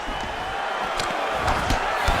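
Arena crowd at a UFC heavyweight fight between Blaydes and Volkov rises into a steady cheering roar as a takedown lands, with a few sharp thuds and an announcer's voice over the noise.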